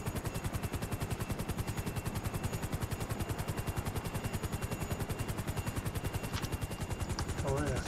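Fast unarmed helicopter in a video game, a dense rapid rotor chop pulsing steadily throughout, loud and close, with gunfire-like bursts mixed in.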